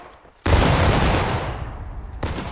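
Musket volley in the War of Rights video game: a single loud, sharp crash of massed rifle fire bursts out and rolls away into a long decaying rumble, with another shot starting at the end.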